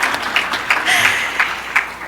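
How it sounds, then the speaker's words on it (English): An audience at an awards-style recognition event claps, a moderate crowd applause with uneven pulses and a few shouts or voices poking through the clapping. "we can clap it up,"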